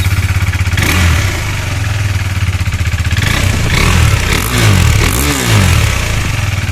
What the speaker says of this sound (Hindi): ये है स्टॉक एग्जॉस्ट का आवाज़